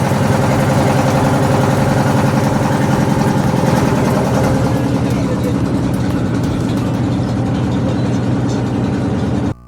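A boat's engine drones loud, close and steady as the boat sets off on Nikli haor, a continuous throbbing rumble that holds until it cuts off at the end.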